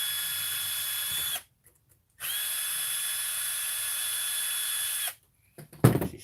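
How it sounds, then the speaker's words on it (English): A cordless power driver spins out a bolt from the axle pumpkin cover on a Traxxas TRX-4 RC truck, two steady high-pitched whirring runs broken by a short pause, close and loud, ending with a few small clicks and handling knocks. "I'm taking out that fourth bolt to get the pumpkin cover off"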